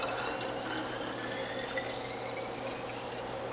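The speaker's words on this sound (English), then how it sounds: "Now I'm filling this from the back side just so the camera gets a good look." Green juice made from kale, collards, kohlrabi, cucumbers, beets, carrots, ginger and garlic is poured into bottles, a steady, soft splashing trickle of liquid filling the containers with a constant faint hiss.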